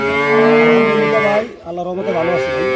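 At a Noakhali cattle market, a cow lets out a loud, long, close moo, then after a brief pause a second, lower moo follows.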